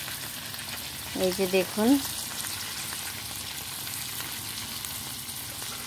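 Bhola fish paturi fries slowly over low heat, giving a soft, steady sizzle throughout, with someone briefly speaking over it partway through.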